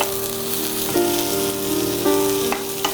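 Onions frying in a little oil, browning in a pan with a steady close sizzle and a couple of brief stirring scrapes, no voices.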